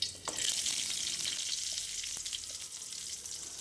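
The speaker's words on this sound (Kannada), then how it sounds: "ಅರ್ಧ ಕಟ್ ಮಾಡಿದ ಈರುಳ್ಳಿ ಹಾಕುವ." Halved onion slices sizzle in hot coconut oil, a steady, close hiss of frying that runs without pause, with a few soft clicks of stirring and no voices.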